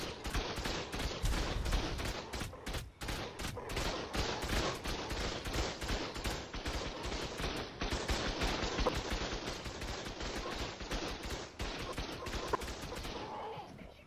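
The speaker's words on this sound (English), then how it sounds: "this is like a fully automatic shotgun shooting the bird right now" Rapid fully automatic shotgun fire from the game Ark, aimed at a bird, rattling in a dense, continuous burst of closely spaced blasts for the whole stretch, loud and near with no voice over it.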